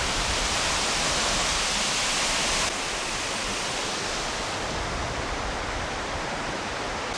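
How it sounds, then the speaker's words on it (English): A New Zealand waterfall and heavily flowing creek roar as a dense, steady broadband rush, loud and close, with no voices. "We've reached this waterfall. The creek next to it is flowing quite heavily"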